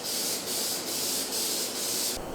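Spray gun laying a light tack coat of paint on a carbon fiber wing, several close hissing bursts of spray separated by very short pauses, steady and fairly loud with no speech.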